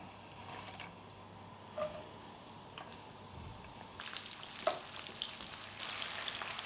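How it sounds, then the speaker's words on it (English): Sliced onion frying in hot oil for pilau rice, a faint continuous sizzle with soft crackles and a brief stir, quiet and steady throughout. "we've sliced our onion there. I'm going to stick that into the oil"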